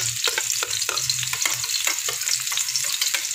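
Egg frying and being stirred in a home pan: a steady close sizzle with repeated spatula scrapes and taps in an uneven rhythm, no voices.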